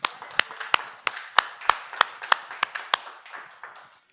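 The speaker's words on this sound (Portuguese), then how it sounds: "Salva de palmas ao Espírito Santo" A church congregation gives a short burst of clapping: about a dozen sharp, fairly close hand claps in an uneven rhythm over a softer background patter, then fading out.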